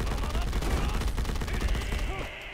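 An enemy's barrage attack in the Roblox game AUT: a dense run of rapid, loud punching hits fires off in a fast stream for about two seconds, then tapers off into quieter game sounds.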